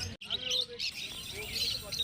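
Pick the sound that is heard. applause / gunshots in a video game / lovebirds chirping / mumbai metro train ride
lovebirds chirping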